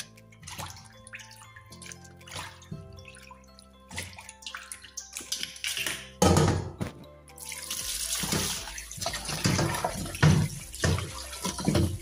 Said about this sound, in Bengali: এই যে মাছ ধুইতেছি, মাছের ঝোল করব